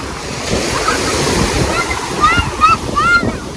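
Ocean surf washes onto a Miami beach in Florida, a steady hiss of breaking waves with wind noise, while high whistling or bird-like calls chirp briefly near the end.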